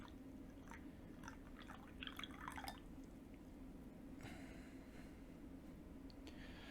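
Green Fukamushi Japanese tea is poured, giving a faint, soft trickle and light dripping at close range over a low steady hiss, with a brief burst of splashing; no one speaks.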